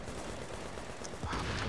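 A gun turret fires a dense, steady stream of rapid shots in The Division video game, a continuous rattling barrage that swells louder near the end.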